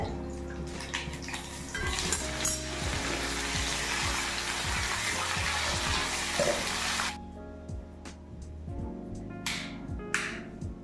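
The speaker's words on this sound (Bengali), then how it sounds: "সর্ষের তেল দিয়েছি কড়াইতে, মানে মাছ ভাজছে।" Fish frying in mustard oil in a kadai: a steady, close sizzle for about seven seconds, which then cuts away to quieter kitchen clinks and taps.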